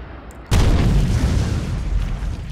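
A mortar round bursts in a WWII tank strategy game, a sudden loud boom that rolls into a long, heavy rumbling tail, with no talking over it.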